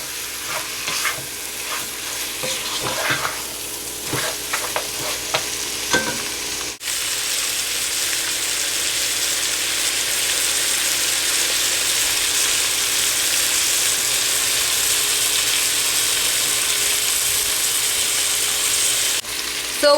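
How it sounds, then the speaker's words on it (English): Goat meat sautés in sizzling oil with masala, a dense steady frying hiss, close and loud, with scraping stirs early on before settling into continuous sizzle. "the oil sizzling"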